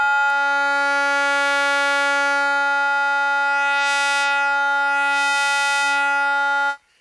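Rossum Electro-Music Trident synth oscillator with its waveform symmetry being adjusted, modulated by a triangle wave: a sustained, loud, buzzy harmonic tone with slow swelling timbre changes in the highs, stopping abruptly near the end.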